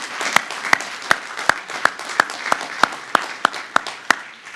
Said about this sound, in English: So, Christopher Tengren, let's give him a round of applause.